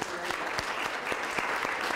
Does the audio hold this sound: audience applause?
yes